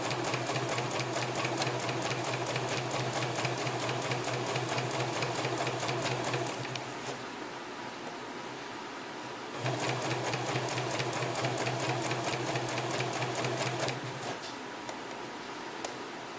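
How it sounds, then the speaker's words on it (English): A sewing machine stitches a seam in two loud, rapid, steady runs of needle ticking, separated by a brief pause. "And I will start sewing, and be sure you back stitch a little bit at the top to secure your thread."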